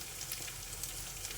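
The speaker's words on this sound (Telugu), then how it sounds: "ఈ చారు కొద్దిగా చిక్కగా అయ్యేదాకా మసల పెట్టుకుందాం." Carrot tomato rasam simmering in a pot, giving a steady, low bubbling hiss with faint crackles, continuous and quiet throughout.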